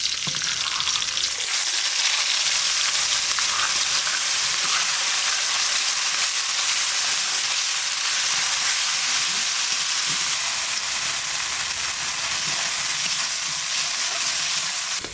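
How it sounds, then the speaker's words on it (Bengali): Ground spice paste fries in hot oil for a vegetarian paneer dish with potol and poppy seed, a loud, steady sizzle and hiss that runs unbroken throughout, with no voices. "এইবার দিয়ে দেবো বাটা মশলা।"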